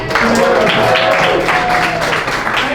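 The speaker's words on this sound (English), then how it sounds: "I appreciate that clapping so much" Audience applause at a stand-up comedy show, a sustained, loud wash of many hands clapping, with crowd murmurs and cheers mixed in.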